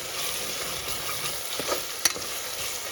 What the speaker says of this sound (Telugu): ఇవన్నీ అల్లం పేస్ట్ కూడా బాగా ఫ్రై అయిపోయింది